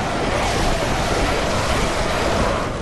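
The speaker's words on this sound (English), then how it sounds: "Is that all just for this guy to say the sound of water?" Water ambience in the video game Bloodborne, a steady, loud wash of broadband rushing like surf or flowing water that stays constant and unbroken throughout, with no voices over it.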